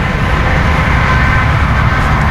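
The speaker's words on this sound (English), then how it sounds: "watching big sweet semis drive by." Big semi trucks rumbling past on a road, a loud steady low roar of engines and tires filling the whole stretch with no pauses.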